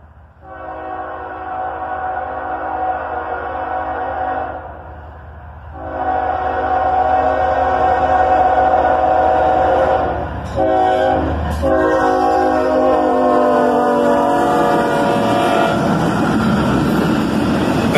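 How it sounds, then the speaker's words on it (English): A manifest freight train led by a single ES44AC locomotive passes through the Central Road crossing, sounding long, loud horn blasts over a rumbling engine, close by with no talk. "A single ES-44 ACH leads this manifest train through the Central Road crossing."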